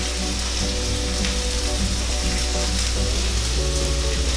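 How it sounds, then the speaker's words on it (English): Carrots sauteing in a pan for a spelt salad, a steady close sizzle and frying crackle that runs the whole time with no talk. "Grab my carrots. I'm just gonna saute them."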